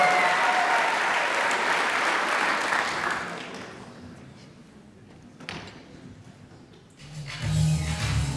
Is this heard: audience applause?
yes